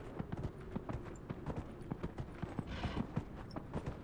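Horse hooves clip-clop in the video game Dragon Age: Inquisition, a quick, fairly faint trotting rhythm of crisp taps repeating steadily for a few seconds, with no voices.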